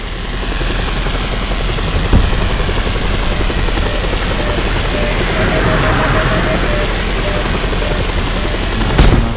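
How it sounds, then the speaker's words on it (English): A missile launch in Just Cause 2, heard within a loud, continuous roar of engine and rapid gunfire-like rattle, with sharp cracks near the start and end. "Launching missile."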